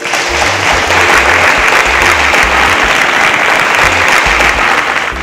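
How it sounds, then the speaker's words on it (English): Loud, dense applause from the audience at a national science competition for its three semi-finalists, continuous throughout with a low rhythmic thump pulsing underneath. "A round of applause for them"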